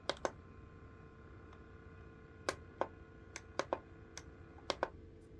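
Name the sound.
camping fan oscillation motor running on a low setting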